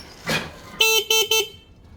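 A car horn honks three short times in quick succession, loud and close, after a brief softer sound.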